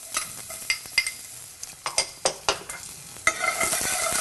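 Shallots frying and being stirred in a hot pan with garlic-infused oil: a steady sizzle broken by a string of sharp utensil scrapes and taps against the pan, close and fairly loud, with no talking.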